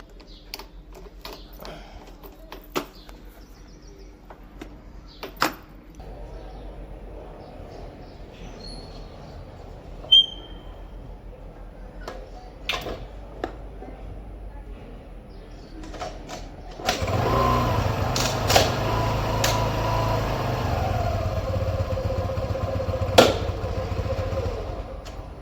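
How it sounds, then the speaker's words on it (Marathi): A motorcycle in an Indian lane, several faint clattering kicks and clicks, then the engine catches partway through and settles into a steady nearby idle with small knocks over it. "चालू होती है बट किक बहुत मारना पड़ता है।"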